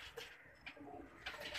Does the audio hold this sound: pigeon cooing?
yes